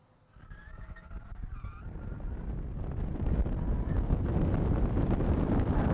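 A Ford Focus RS slides through corners on a track, its engine and tire roar building from moderate to loud and sustained, with buffeting wind noise close to the microphone.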